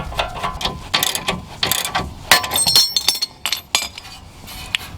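A ball joint separator tool on a Honda Accord is tightened against the knuckle, giving sharp metallic clicks and ratcheting clanks in irregular bursts, close and loud, with brief pauses between strokes.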